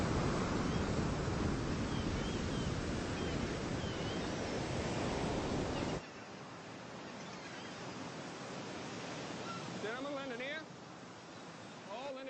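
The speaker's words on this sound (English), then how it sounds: "beholding with astonishment the high waves dashing the rocks in this immense ocean" High ocean waves dash against rocks in steady, loud surf with a windy rush, then the roar drops to a softer wash halfway through.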